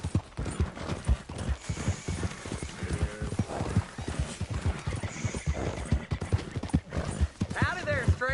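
Horse hooves clip-clop steadily in Red Dead Redemption 2, close and rhythmic, with a horse neighing and whinnying near the end while voices talk over the hoofbeats.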